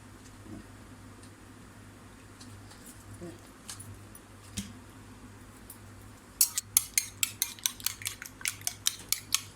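Cutlery scraping and clinking against a pot while chicken BBQ rice is mixed, starting as faint scattered taps and turning into a rapid run of sharp metallic clacks near the end.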